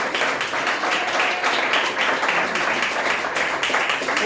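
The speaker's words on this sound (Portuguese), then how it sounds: "Aplauda Jesus!" Congregation clapping together during an evangelical church service, a dense, steady wash of applause with a faint rhythmic pulse, loud and filling the room with no clear voice on top.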